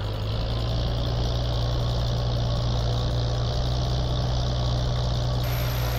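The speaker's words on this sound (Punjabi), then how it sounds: "ਹੁਣ ਟਰੈਕਟਰ ਹੌਲੀ ਹੋ ਗਿਆ।" Swaraj 855 tractor engine in Farming Simulator 22, labouring and slowing under a heavy corn silage load, a loud, constant low droning rumble throughout with no voices.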